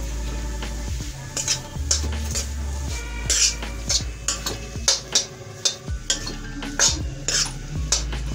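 A potato samosa filling is stirred and roasted in a pan, a spoon scraping and knocking against the metal in steady repeated strokes over a low hum and faint sizzle, close and fairly loud, with no talking.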